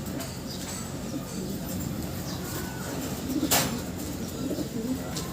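Breeder pigeons coo softly and continuously inside a loft, a low, murmuring bed of sound with a brief flutter or rustle partway through.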